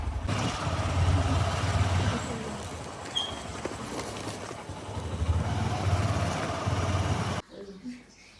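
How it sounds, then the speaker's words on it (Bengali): A motorbike pulls up and idles with a steady low rumble for about seven seconds, then its engine cuts out abruptly, leaving quiet background. "আমার বাইক এসে গেছে, চললাম"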